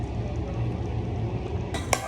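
A pot of Kapampangan pasta sauce bubbles with a soft, steady simmering texture, close by, ending in a couple of sharp metallic clinks of a utensil against the pot.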